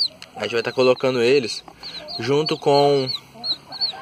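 Chickens cluck near a grey cabu hen with her newly hatched chicks, giving soft intermittent clucks and faint high peeps between stretches of close speech from a person handling them.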